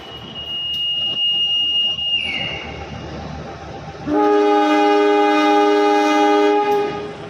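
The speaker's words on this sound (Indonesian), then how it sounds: "Kereta api Logawa akan masuk di jalur nomor 1 stasiun Probolinggo" The Logawa passenger train arrives at Probolinggo station, its loud, close, sustained multi-tone horn blasting for several seconds over the rumble of the approaching train after an earlier, higher whistle tone.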